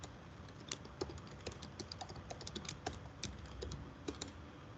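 Rapid keystrokes on a computer keyboard, irregular clicks and taps in quick bursts over steady low room noise, close and fairly quiet with no talking.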